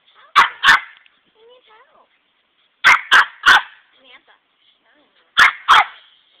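Sharp, close Boston terrier barks in quick bursts of two or three, separated by short pauses with faint sounds between, near a fire pit.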